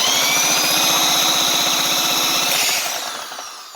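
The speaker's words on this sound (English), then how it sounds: "So we got my drill here. We're gonna see if we can get this thing to fire up." A Motovox 212cc Predator small engine being cranked with a power drill, a steady rapid chugging whir that runs loud and even for a few seconds before trailing off and fading without catching.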